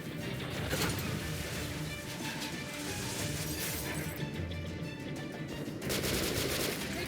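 Gunfire rattles through Metro 2033 Redux in rapid automatic bursts, loud and dense, with crashing impacts and mechanical clatter filling the scene almost continuously.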